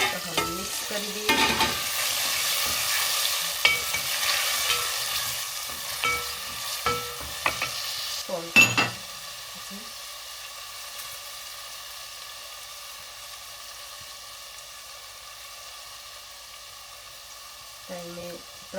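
Tomatoes sizzle and fry in a pan while a spoon stirs them, with scraping strokes through the first half and only a steady quiet frying hiss after that. A brief stir returns near the end.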